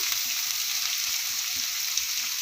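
Cabbage fried rice sautés in a hot pan, giving a steady, close hiss of sizzling oil with soft, irregular stirring knocks underneath. No one speaks.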